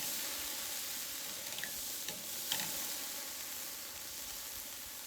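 Flank steak sizzles while searing on a Korean BBQ grill, a steady faint hiss and crackle with a few small pops and ticks scattered through, no voices.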